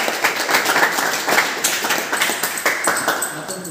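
Classroom clapping during a teaching practice lesson: a dense, steady patter of many hands clapping through the whole stretch, fairly close and loud, with bits of talk mixed in.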